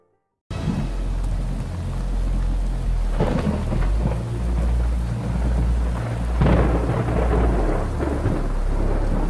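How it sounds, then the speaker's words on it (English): A spring thunderstorm over the southern United States, with steady heavy rain hissing throughout and deep rolling thunder rumbling in several swells, loudest near the middle and again toward the end. "Powerful spring storms this morning are sweeping across the southern United States."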